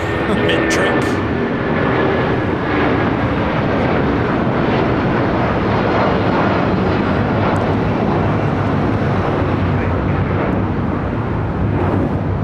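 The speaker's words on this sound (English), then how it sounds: "This is United Airlines Flight 1625 taking off to Newark on a 757-200." United Airlines Boeing 757-200 taking off from LAX for Newark, a loud, steady broadband engine roar holding for the whole stretch, with talk faint beneath it.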